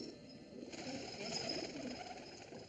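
Pigeons cooing inside a pigeon house in Shangri-La, a soft, steady murmur of low calls that carries on throughout with a continuous background hum and no talking.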